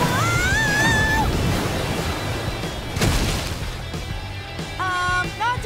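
Rushing water from a waterfall near a riverbank in a cartoon scene, a steady broadband roar that runs throughout under music and sound effects.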